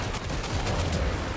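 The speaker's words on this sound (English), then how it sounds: "Machine gun." Dense machine gun fire in the video game Death Stranding 2, a steady loud rattle of rapid shots filling the short stretch with no pause.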